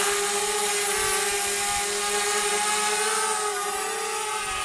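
A DJI Spark drone hovers close by, its propellers giving a loud, steady high-pitched buzz with a constant tonal whine that holds level throughout, with no talking.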